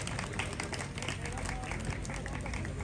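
Crowd clapping at a wrestling tournament, a dense, continuous wash of applause with background crowd noise and voices mixed in.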